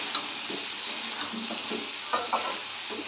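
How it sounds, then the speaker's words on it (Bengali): A spoon scrapes and stirs taro curry with a little sugar in a pan, producing several short rhythmic scraping strokes over a soft, continuous sizzle. "একটু চিনি দিয়ে দিচ্ছি। এবার ভালো করে নেড়ে নেব।"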